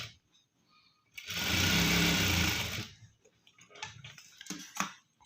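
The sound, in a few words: sewing machine stitching blouse piping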